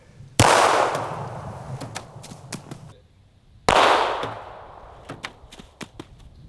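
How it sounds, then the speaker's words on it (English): Two sharp, loud .380 ACP shots from a Walther PPK strike cheap budget body armor a few seconds apart, each a hard crack with a ringing tail, followed by scattered small clicks and clanks. "That was a much harder bullet impact, but I think it stopped it"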